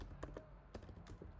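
Quiet typing on a computer keyboard, a loose scatter of soft key clicks heard close and alone.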